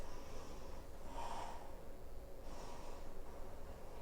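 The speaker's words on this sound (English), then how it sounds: "Two more deep breaths." Slow, deep breaths during a yoga flow: two long airy inhales or exhales, soft and close, separated by quiet, with no talking.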